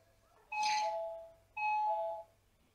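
A doorbell chimes twice at a quiet distance, each ring a two-tone ding-dong, with a short pause between them and no voices.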